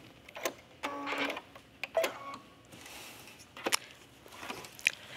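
A sewing machine stitches layered petal skirt panels with green thread, giving short mechanical bursts of clattering needle runs with pauses between them, fairly quiet and close with no talk.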